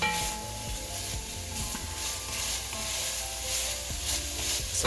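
Chicken browning and caramelizing in a pan for jalapeño chicken chili, a bright steady sizzle with scraping and rubbing stirs close by, no one talking.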